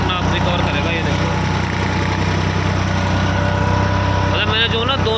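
A diesel tractor pulling a cultivator through a dry field runs with a steady, loud, low engine drone throughout, and someone talks over it.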